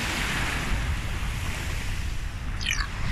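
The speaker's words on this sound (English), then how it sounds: "Yeah, waves. Do you like waves?" Steady wash of sea waves breaking on a beach in Cannes, a continuous surf roar with a faint high chirp near the end.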